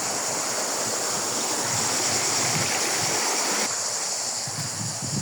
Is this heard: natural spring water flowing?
yes